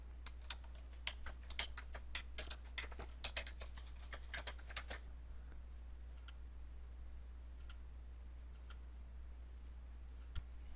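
Quick, light computer keyboard typing as a search term is entered into medical coding software, a dense run of keystrokes for about five seconds, then a few scattered taps and a final click, close and clean with no speech.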